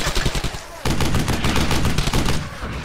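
Rapid bursts of automatic gunfire from the World War II shooter game Brothers in Arms: Hell's Highway, loud and sustained. Scattered shots come first, then a dense continuous volley runs through the rest.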